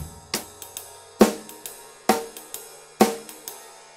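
Drum kit playing alone in a rock style with sharp, ringing ride cymbal accents landing about once a second, each followed by lighter hits and a washy decay.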